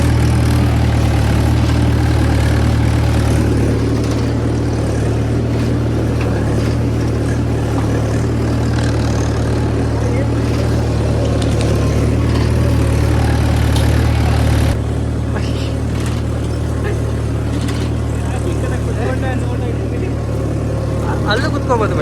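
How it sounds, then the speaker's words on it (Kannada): A tractor engine runs steadily while the tractor drives through a village farm, a loud, continuous low rumble that lasts throughout, with people talking over it. "ಫಾರ್ಮರ್ ಆಗ್ಬಿಟ್ಟು ಟ್ರ್ಯಾಕ್ಟರ್ ಓಡಿಸ್ತಿದ್ದೀವಿ"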